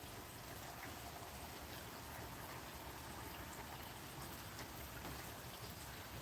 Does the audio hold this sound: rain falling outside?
yes